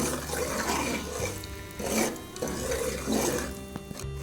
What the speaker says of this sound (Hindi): देखिए सूजी हमारी आहिस्ता आहिस्ता भुन रही है।